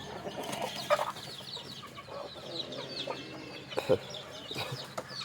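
Free-range country chickens cluck intermittently while feeding on moringa leaves outdoors, with a few louder squawks among steady low farmyard ambience.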